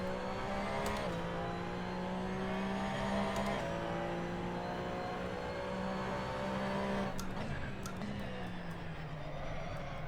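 Race car engine in the Assetto Corsa racing game, a steady droning hum with shifting pitch and brief gear-change breaks, constant and close throughout with no talk.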